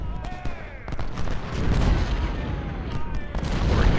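Artillery fire in an American Civil War battle in the game Ultimate General: Civil War, heard as repeated sharp cannon and rifle volleys with booming rumbles rolling under a busy battlefield din.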